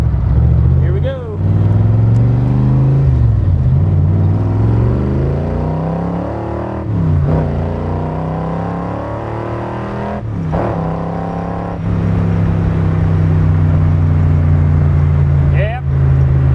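A 480 cubic-inch stroker Cobra with a five-speed gearbox revs hard under acceleration, its loud close engine note climbing through gears with brief drops at each shift.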